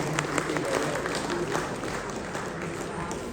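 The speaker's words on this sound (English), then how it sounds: "A big round of applause for Nalini." Audience applause at an awards ceremony honouring women's achievements, steady clapping from a crowd filling the whole stretch at an even level, with murmurs and a few voices mixed in.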